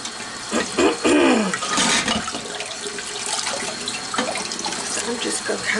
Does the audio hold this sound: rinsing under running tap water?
yes